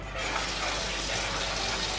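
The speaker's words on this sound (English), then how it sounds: "So I'm just gonna wash the mushrooms." Mushrooms being washed under running tap water in a kitchen: a steady, close, continuous rush of water streaming over them without pause, with no talk.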